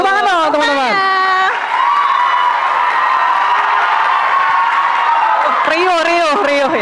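At a school talk show at MAN 2 Pekanbaru, a large student audience erupts into a sustained roar of cheering and clapping, framed by loud voices speaking before and after.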